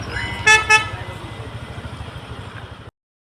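Amid a traffic jam, two short car horn toots sound in quick succession over a rumbling engine and road noise, which continue briefly and then cut off abruptly.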